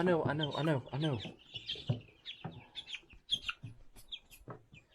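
Young chickens being moved from a brooder on a farm cluck and chirp in short, scattered calls, close by, while someone talks over the first part.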